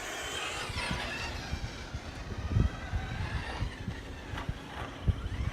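An ST4G3 RC truggy with a 14-tooth pinion runs on a large outdoor dirt track, its motor whine and tyre rumble heard at a moderate distance with rough bumps and surges, under wind noise.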